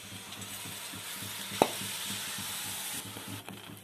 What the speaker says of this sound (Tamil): லோ ஃப்ளேம்ல வச்சு நல்லா கிளறி விட்டுட்டே இருங்க